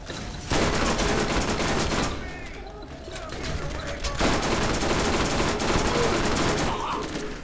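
Rapid automatic gunfire in the video game Borderlands, loud dense bursts of shots with a short lull around the middle before the firing resumes, with voices talking underneath.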